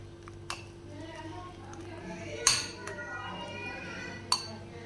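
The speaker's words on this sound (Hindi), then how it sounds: "इन सारी चीज़ों को अच्छे से मिक्स करेंगे। मिक्स करेंगे अच्छे से।" A spoon stirs flour and other ingredients into a paste in a bowl, with soft scraping and a few sharp clinks against the bowl spread over several seconds; no talk.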